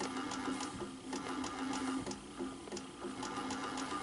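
Homemade lathe with an electric motor billed as 3 horsepower, running steadily with a continuous whirring drone and faint rhythmic ticking, close by and without talk.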